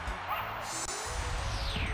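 Growlithe, the fire-puppy Pokemon, lets out a short, soft yelping cry as it faints in the Pokemon Stadium video game, heard faintly over the game's background music.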